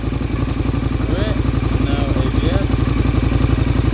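A KTM 1290 motorcycle engine running close by before a burnout, a loud, rapid, even pulsing beat that holds steady throughout, with faint chirps over it.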